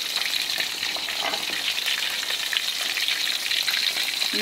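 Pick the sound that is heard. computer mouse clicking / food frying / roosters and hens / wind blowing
food frying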